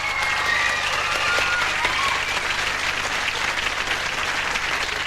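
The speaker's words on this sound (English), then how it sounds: "Give her a clap." A live audience at a 1988 television show's final episode claps loudly and continuously, a dense, even roar of applause filling the whole stretch.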